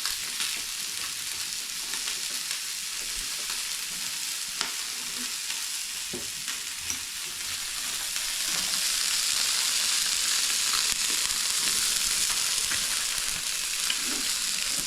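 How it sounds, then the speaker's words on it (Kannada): Fish frying in a pan with a little oil, a steady close hissing sizzle that grows slightly louder midway, with occasional small pops and crackles and no talking. "ಇದರಲ್ಲೇ ಫ್ರೈ ಆಗಿಬಿಡುತ್ತೆ ನಿಮಗೆ"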